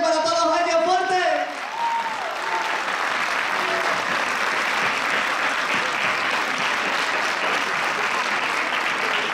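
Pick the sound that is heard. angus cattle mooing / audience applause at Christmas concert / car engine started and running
audience applause at Christmas concert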